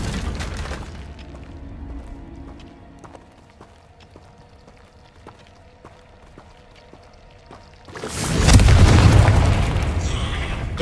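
Fiery Confringo blast spell in Hogwarts Legacy: a loud explosive burst at the start, a quieter stretch of scattered clicks and ambience, then a second, heavier roaring explosion near the end.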